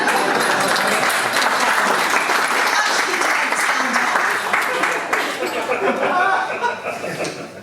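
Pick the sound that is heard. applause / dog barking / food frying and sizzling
applause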